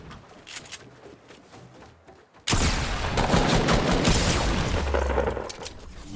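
Video game sniper fire bursts in suddenly and loudly midway, a sustained crackle of gunshots that dominates after a quieter stretch of background game noise.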